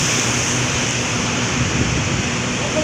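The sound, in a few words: rain falling in Palembang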